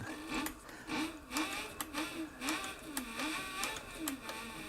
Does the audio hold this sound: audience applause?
no